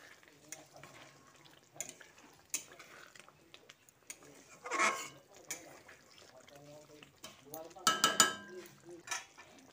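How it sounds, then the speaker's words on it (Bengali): Chicken being mixed with a little sugar in a pan for a sweet-salty doi chicken: soft scraping and wet stirring with a couple of louder clatters of a spoon on the pan, under quiet speech. "চিনিটা দিয়ে চিকেনের সঙ্গে ভালো করে মিশিয়ে নিচ্ছি"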